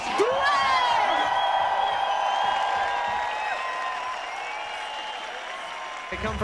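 A crowd at a ski competition cheers, whoops and applauds, with sustained whistle- or horn-like tones riding over the roar, loud at first and slowly easing off.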